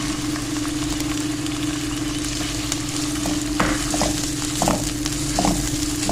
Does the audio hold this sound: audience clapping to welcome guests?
no